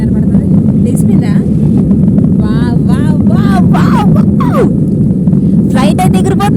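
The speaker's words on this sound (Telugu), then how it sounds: "ఫ్లైట్ అయితే ఎగిరిపోతుందబ్బా" An airliner on a Qatar-to-India flight accelerates down the runway for takeoff, its engines a loud, steady, deep roar filling the cabin while a passenger talks over it.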